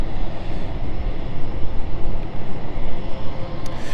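A Cessna Mustang business jet passes close by with a loud, continuous broadband roar that pulses slightly as it goes by, with no talking.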